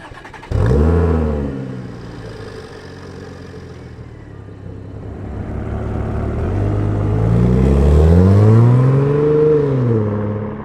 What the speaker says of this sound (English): Now, I did just install an X-Pipe, and here's kind of a little clip of what that sounds like